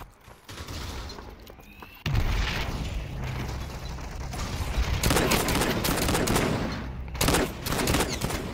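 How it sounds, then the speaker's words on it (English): Video game gunfire rattles in loud bursts of automatic shots and mechanical clatter, starting sharply and continuing in heavy volleys with short pauses, close and intense, with no talking. "Oh, I'm getting shot from over here."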